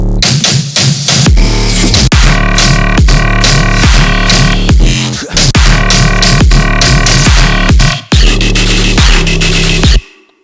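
A synthesized sustain bass lead plays a dense, distorted, harmonically rich riff in rhythmic stabs and held notes, loud and alone, cutting off sharply at the end.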